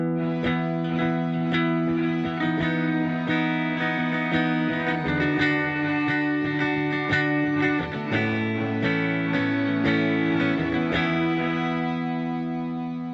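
Sustained electric guitar notes drenched in a lush, synth-like string reverb, chords swelling and shifting steadily, loud and continuous with a shimmering wash trailing each note.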